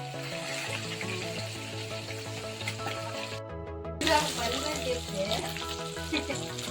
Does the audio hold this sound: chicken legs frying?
yes